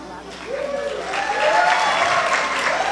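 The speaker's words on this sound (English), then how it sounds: "I could get the crowd clapping." A crowd of kids clapping at a talk or introduction, a dense, steady patter of applause that builds slightly louder partway through, with faint voices and cheering mixed in.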